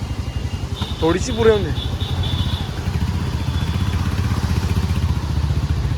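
A motorcycle engine idles with a steady low putter throughout while people talk briefly nearby.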